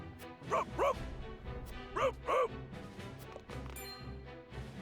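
A dog in the video game Triangle Strategy barks in two quick pairs of sharp, close barks over a steady layer of game music and ambience.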